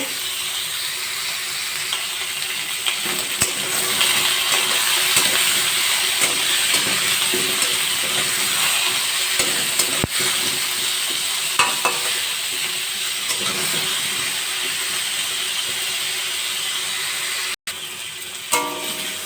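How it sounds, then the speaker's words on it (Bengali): Spices with turmeric being stirred in a pan over a low gas flame while making a hog plum chutney: a steady, close sizzle and frying hiss with soft scraping of the spoon throughout, no talking. "গ্যাসের ফ্লেমটা কমিয়ে দু মিনিট একটু নাড়াচাড়া করে নিলাম"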